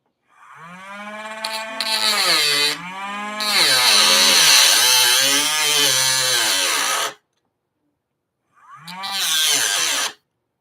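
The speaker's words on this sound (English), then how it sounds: "now I'm just trimming the track, the flex track, so that I can put these longer turnouts in place" A power tool trims model railroad flex track to make room for longer turnouts, whining loudly in long rising and falling cuts over about seven seconds, then pausing before a final short burst.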